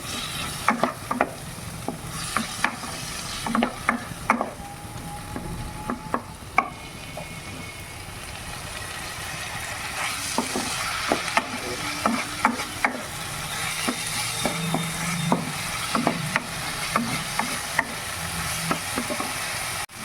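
Masoor dal being stirred in a frying pan, with a continuous sizzle under repeated scraping strokes of the spoon against the pan and a few sharp clinks, close and steady throughout.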